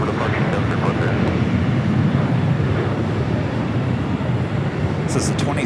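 A United Boeing 777-200 airliner bound for Honolulu departs LAX, its engines making a loud, steady, broad roar that fills the whole stretch without fading.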